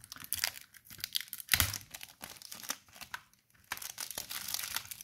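Thick plastic packaging on a CD crinkles and tears as it is forced open, a close, continuous run of crackling and ripping with one sharper loud tear near the middle.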